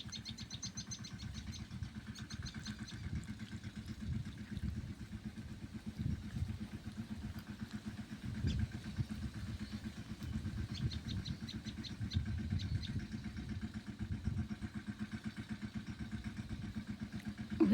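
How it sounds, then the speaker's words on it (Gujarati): Small tractor engine running in a farm field during sowing, a steady mid-pitched chugging drone throughout, fairly close and continuous with a slight rise near the end. "એટલે આપણે આજે નાના ટ્રેક્ટરનો ઉપયોગ કરીએ."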